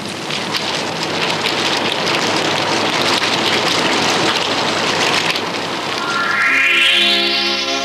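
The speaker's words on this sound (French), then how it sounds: "il pleut" Rain falls in the South African desert after nearly a year of drought, a steady, close patter of drops on the ground, with soft music fading in over it near the end.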